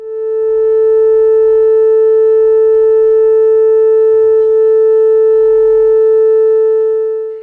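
Two identical 440 Hz tones sound together as one loud, pure, steady hum that holds unbroken for several seconds without audible wavering.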